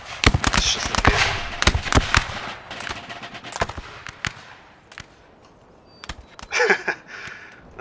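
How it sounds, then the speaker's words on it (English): Musket and cannon fire from a Napoleonic battle in the Napoleon Total War III game, a rapid crackling volley of sharp gunshots that thins into scattered shots, with a brief rumbling burst near the end. "Oh, I love the sound of these guns."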